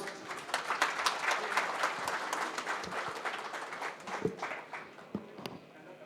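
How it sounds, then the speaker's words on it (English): A crowd applauding at an OBC Morcha political meeting, a dense patter of many hands clapping at a moderate distance, fading slightly toward the end. "Big round of applause."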